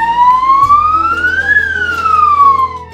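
A battery-powered auto-rickshaw converted into a mini ambulance sounds its siren, a loud, close electronic wail rising and falling in pitch over a low vehicle hum.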